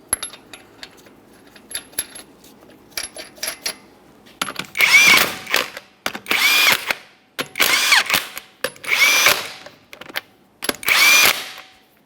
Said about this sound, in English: Start on all 5 of your 21mm lug nuts and bottom them out.